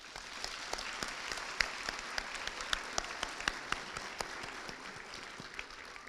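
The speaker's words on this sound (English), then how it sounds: "Let's take a moment for all of you as a graduating cohort to applaud one another" Applause from a graduating nursing cohort at a December pinning ceremony, a dense, steady wash of many hands clapping at once with scattered sharper claps standing out, held at moderate distance throughout.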